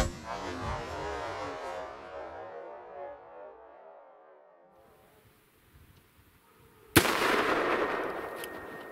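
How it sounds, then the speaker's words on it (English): A 300 Blackout rifle with a 10.5-inch barrel fires a Barnes Tac-TX bullet into ballistics gel. After a faint, fading background there is a moment of near quiet, then a single sharp, loud report followed by a noisy tail. "let's shoot the Barnes first"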